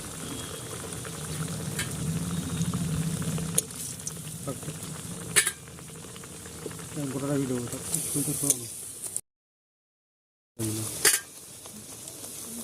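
Jaggery pitha frying in hot oil gives a steady close sizzle and bubbling, with a voice speaking now and then over it, a brief silent gap, then more frying.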